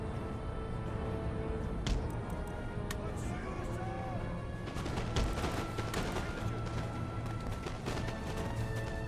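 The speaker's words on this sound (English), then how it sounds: "And they can open fire." Musket volleys crackle in a dense, continuous fusillade during a Total War: Empire land battle, layered over game music and ambient battle noise while someone talks.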